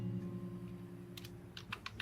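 Typing on a computer keyboard while building software in Excel: a low hum runs underneath, then a few quick clicking keystrokes arrive near the end, close and alone without talk.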